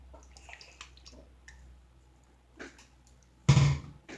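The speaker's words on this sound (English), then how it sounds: "I'm gonna take a little sip of water first." A person takes a small sip of water at a table: quiet clicks and soft handling, then a short wet gulp toward the end, close and fairly loud against the stillness.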